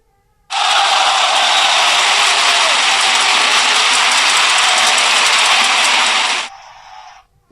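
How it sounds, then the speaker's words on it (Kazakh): A stadium crowd of fans roars loudly and steadily for about six seconds, a dense wash of shouting and cheering that cuts off abruptly near the end. "Бұл стадионда шулап жатқан жанкүйерлердің дыбысы."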